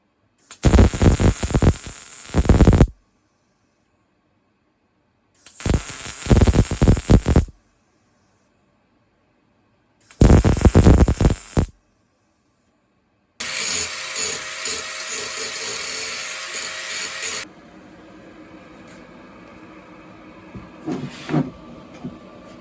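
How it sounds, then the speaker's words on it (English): A power grinder works metal handle parts for a Tuff Tow 1000 tractor. It sounds in three loud harsh bursts separated by silence, then makes a longer steady grind that fades into quieter scraping. "I'm just going to grind them and make them look pretty."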